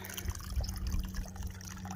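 Water trickles and gurgles as a hiker fills up at a source on a mountain trail, a soft, steady flow heard close by with no one talking.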